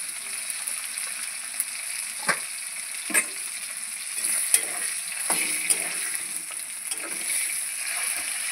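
Radhuni spice tempering in hot oil for a rohu fish curry with greens and taro, a constant bright sizzle with intermittent pops and stirring clicks, close and fairly soft.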